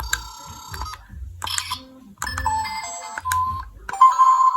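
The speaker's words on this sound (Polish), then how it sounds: "Tu mamy jeszcze taki telefonik, to też fajna zabawka e, z Zara Home." A Zara Home toy telephone rings with repeated electronic tone bursts in a bright melodic pattern, fairly loud and close, with short gaps between the rings.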